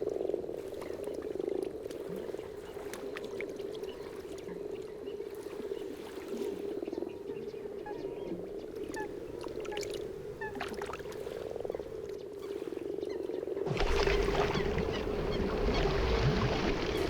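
Frogs croak steadily in a wild natural conservation area in Bavaria, a dense continuous chorus heard from a moderate distance, with a brief burst of broader noise near the end.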